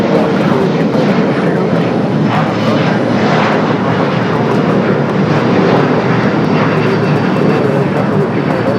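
SkyWest Flight 6307 to San Antonio passes at Los Angeles International Airport, its engines a loud, steady, unbroken roar that fills the whole stretch.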